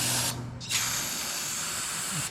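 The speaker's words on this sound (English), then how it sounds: "Let's spray her one more time." Two close, loud hissing bursts of brake cleaner sprayed onto the brakes of an old DeSoto car, a short spray followed by a longer sustained one, with a faint mechanical rattle.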